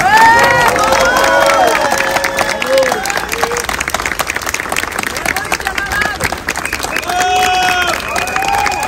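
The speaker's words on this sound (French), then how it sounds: "on va les applaudir très fortement" A crowd at a workers' strike rally in Paris applauding and cheering loudly, with shouting voices rising over the clapping throughout.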